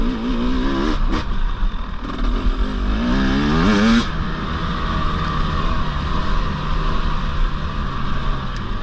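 A 2024 Husqvarna 300 TE two-stroke dirt bike revs and pulls hard on a ride, its loud engine climbing in pitch, then settling into a steady buzzing drone.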